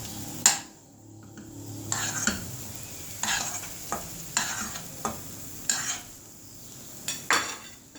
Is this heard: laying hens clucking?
no